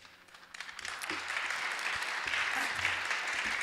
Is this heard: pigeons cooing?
no